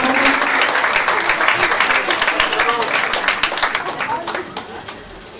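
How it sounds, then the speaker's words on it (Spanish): Audience applause for a person named Orlando at a poetry and theatre event presentation, a steady wash of clapping across the hall that thins out toward the end. "Un aplauso para Orlando."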